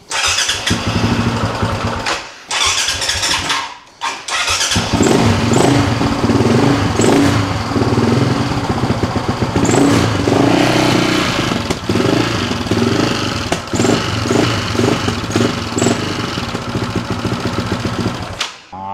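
A motorcycle engine on choke sputters after a couple of false starts, then catches and runs loudly nearby, revving unevenly with crackling pops.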